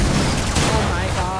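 Rapid gunfire from a weapon in the video game Fortnite Save the World, a short dense burst of shots that fills the moment, close and loud.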